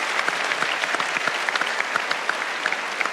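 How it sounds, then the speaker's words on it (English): A lively arts-loving studio audience in Adelaide applauds, steady dense clapping that stays close and fairly loud throughout, with no voices over it. "Give yourselves a round of applause, please."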